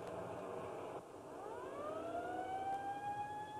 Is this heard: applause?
no